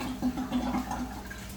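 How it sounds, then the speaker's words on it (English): Water runs steadily from a tap while hands are washed, a close, continuous splashing rush with no talk. "let me go ahead and wash my hands"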